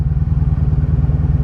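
A 1983 Honda Sabre V45 VF750S motorcycle engine idles close by with a low, rapid, even chugging pulse, steady throughout.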